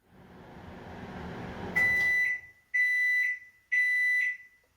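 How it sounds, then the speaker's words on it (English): Three loud, sustained electronic beeps from a household microwave timer, evenly spaced, following a stretch of low rumbling background noise. "The high sound I found in my house was my microwave timer."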